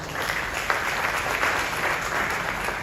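A steady wash of audience applause at a women's conference in Accra, loud and even from start to finish with no voices over it.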